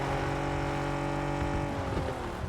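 A car drives and drifts in the PUBG video game, its engine a steady, strained drone with a rising pitch as it revs. The sound is continuous and fairly close, with no talking.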